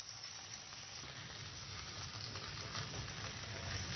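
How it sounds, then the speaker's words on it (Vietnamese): Pieces of chicken frying in hot oil in a pan for a chicken in red wine dish, giving a steady, continuous sizzle heard close up with no talking. "Rồi bây giờ anh sẽ cho từng miếng vào chiên rượu vàng."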